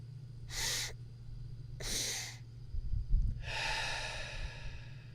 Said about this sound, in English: pull the air in with intention into your belly, and finish that breath into your chest, and then exhale with relaxation.